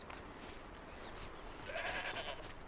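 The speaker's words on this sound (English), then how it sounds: "That's a sheep." A faint sheep bleat from the video game Horizon Zero Dawn rises over a low, steady background hum, brief and distant-sounding.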